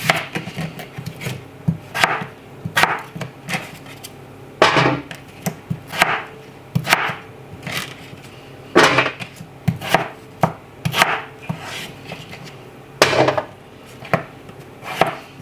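A knife cutting unpeeled potatoes into chip-shaped pieces on a chopping board in a home kitchen, a steady series of close, crisp cuts about once per second, each a sharp knock against the board with brief pauses between strokes.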